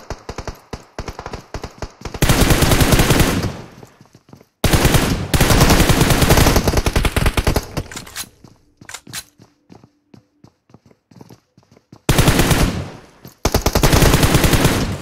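Rapid automatic gunfire from the PUBG Mobile video game, long loud sustained bursts broken by short pauses and quieter stretches, with no talking.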